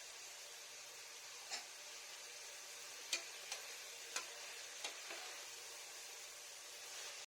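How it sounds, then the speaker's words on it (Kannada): Tomatoes frying in a pressure cooker over a medium gas flame, a faint steady sizzle with occasional light ticks and clinks of stirring. "ಈಗ ಗ್ಯಾಸ್ ಫ್ಲೇಮ್ ಅನ್ನ ಮೀಡಿಯಂ ಮಾಡಿಕೊಂಡು ಟೊಮ್ಯಾಟೊ ಪೂರ್ತಿಯಾಗಿ ಬೇಯೋವರೆಗೂ ಹುರಿದುಕೊಳ್ಳೋಣ"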